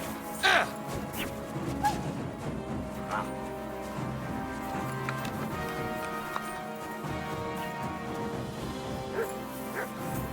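In the video game Kingdom Come Deliverance II, a dog barks and yips a few times in a scuffle amid clashing thuds and hoofbeat-like clops, over a steady background hum of game music and ambience.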